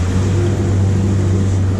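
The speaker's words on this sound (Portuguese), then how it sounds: "arrocha esse motor aí, vamos ver até onde vai" A fishing boat's outboard motor runs hard on a lake, its steady loud engine drone holding constant throughout with no talk over it.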